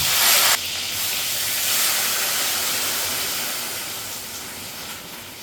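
Eggplant slices hit hot oil with mustard seeds and cumin, setting off a loud initial burst of spitting hiss that settles into a strong, steady sizzle and slowly fades; no voices.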